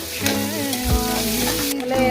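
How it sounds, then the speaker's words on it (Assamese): Fish frying in hot oil, with a steady sizzle running under a low tonal hum and a few clinks or stirring knocks throughout. "আপোনাৰ তেল গৰম হ'ল মাছকেইটা খুব সুন্দৰকৈ ফ্ৰাই কৰি ল'ম"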